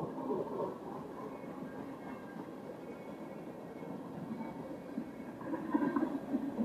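An MD&W mixed freight train with tank cars rolls slowly past, a steady low rumble and rattle of cars holding at moderate loudness throughout and swelling slightly near the end.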